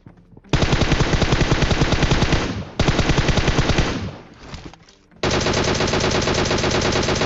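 Rapid automatic gunfire in PUBG Mobile, heard from the Water City area: dense sustained bursts, a short break, a fading stretch, then another long loud volley, with no talking.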